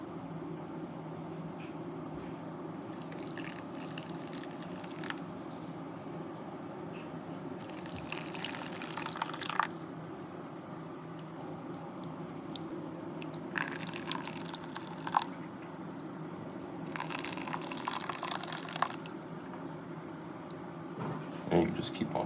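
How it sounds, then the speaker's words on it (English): Coffee poured into a cup in Tokyo, heard as several separate bursts of liquid trickling and splashing over a steady low background hum. "you pour your coffee right over there"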